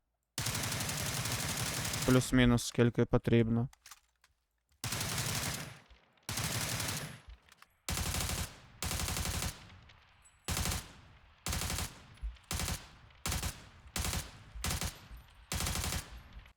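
Repeated bursts of rapid gunfire in the video game PUBG training mode, with brief pauses between volleys, loud and close, with a voice speaking briefly near the start.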